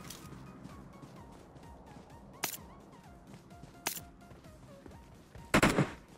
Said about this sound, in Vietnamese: Rồi, có ông bắn ở đây rồi.